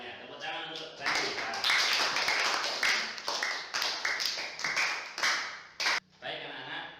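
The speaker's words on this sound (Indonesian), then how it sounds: "Tepuk tangan untuk Randy." Children in a primary school classroom clap together in a burst of sharp, dense hand claps lasting several seconds, with a short pause near the end, while voices carry on underneath.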